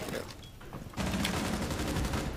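Rapid gunfire in a ranked Call of Duty match: dense, loud bursts of shots crackle in quick succession, starting after a quieter second and continuing steadily to the end, with no talking.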